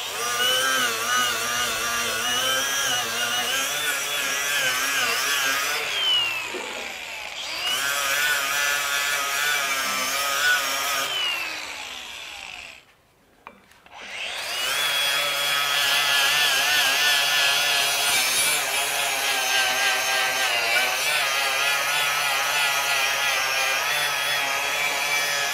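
FLEX 24V FX3171A brushless grinder with a 40 grit flap disc, running at a loud, steady whine with rubbing grinding texture, a brief drop to near silence midway before it spins back up.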